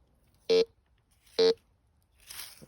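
Metal detector target tones while hunting around an abandoned house: two short, loud beeps about a second apart, followed by a softer scratchy rustle, with no talking.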